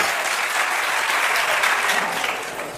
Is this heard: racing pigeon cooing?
no